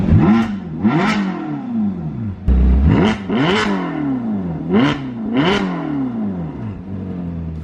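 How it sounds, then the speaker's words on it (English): A Ferrari California V8 revs hard several times in a confined garage, each sharp rising blip dropping back to a burbling idle, loud and close with no talk over it. "Gotta do a celebratory rev"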